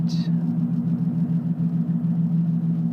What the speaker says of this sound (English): my fucking car is so noisy